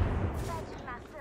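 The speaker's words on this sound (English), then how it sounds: "They're throwing nades at me" Grenade explosions in the video game Apex Legends, a burst of deep booming blasts with rumbling low end, over game noise.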